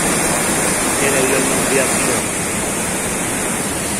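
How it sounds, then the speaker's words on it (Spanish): Steady, loud broadband rushing of a waterfall in Cali, Colombia during the rainy season fills the whole stretch, constant and close with no break. "cascada"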